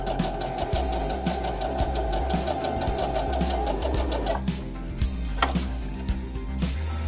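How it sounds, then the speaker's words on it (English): A sewing machine stitching two quilt fabrics together, a steady fast mechanical whir with rapid needle clatter, loud and close, slowing and stopping near the end. "when you sew two quilt fabric together, you can line them up with the tape as a guide, just like that"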